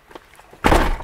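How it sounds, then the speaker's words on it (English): A 2004 Ford F350 truck door closes with a single close, heavy thunk after a few faint shuffling sounds. "Close the door."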